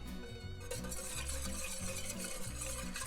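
Crawfish mac and cheese sauce being stirred and broken apart in a pan, a steady wet scraping and sloshing with faint sizzle underneath, close and continuous with no talking.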